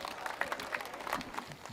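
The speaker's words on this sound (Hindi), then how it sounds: "जोरदार तालियां" Audience applause for a poet at a Hindi comedy poetry event, a faint, dense wash of clapping heard from a distance and sustained throughout.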